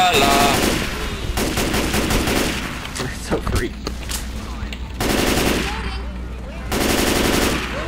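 Machine gun fire in a video game, loud rapid automatic bursts with a few separate volleys and brief pauses between them, close and dominant, with a voice talking faintly underneath.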